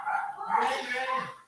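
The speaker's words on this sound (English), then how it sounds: "My dogs go crazy if you can hear that in the background." Several house dogs bark and yip excitedly in the background of a home, their muffled, overlapping barks running continuously behind a man's nearby speech.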